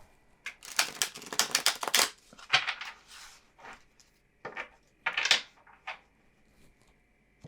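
Tarot cards are shuffled in quick, papery riffles and slaps, several bursts with short pauses between, close and fairly quiet with no talking.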